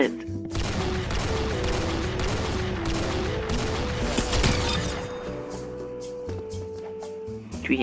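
Gunfire in a shooting video game, dense continuous automatic bursts, loud and close, with a steady tone from the game running underneath.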